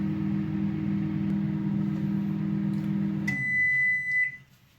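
A microwave oven hums steadily while heating a bowl of pea and ham soup, then cuts off and gives a single sustained high beep to signal it is done, followed by quiet.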